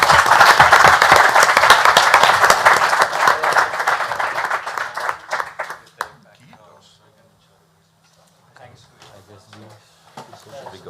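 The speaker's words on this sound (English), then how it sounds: "give a very big applause to our panelists" An audience at a forestry conference gives the panelists dense, loud applause for about five seconds. The clapping then thins to a few scattered claps and fades into quiet room noise with faint voices.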